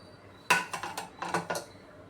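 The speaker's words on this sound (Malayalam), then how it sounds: "കുക്കർ തുറന്നിട്ട്" A pressure cooker of cooked beans being opened: a short run of close metallic clanks and scrapes from the lid and pot, about six quick knocks within a second and a half, in a quiet kitchen.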